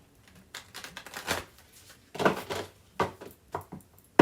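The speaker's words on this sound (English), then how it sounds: "I'll shuffle them again" Tarot cards being shuffled by hand, a series of short papery riffles and flutters in irregular bursts, close and fairly quiet with no talk.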